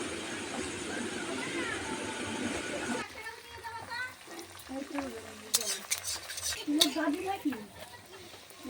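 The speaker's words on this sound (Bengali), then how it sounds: "তেল গরম হয়ে গেছে, এখন আমি লুচি ছেড়ে দেবো তেলের মধ্যে।" Luchi fry in hot oil in a home kitchen, a steady bubbling sizzle that thins after the first few seconds into crackles and spatters, with voices talking faintly nearby.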